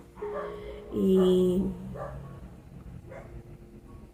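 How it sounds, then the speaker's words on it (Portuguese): Neighbours' dogs bark nearby in a few short, loud barks and yips, followed by fainter barking, while a person speaks briefly over them. "desculpa o barulho dos cachorros"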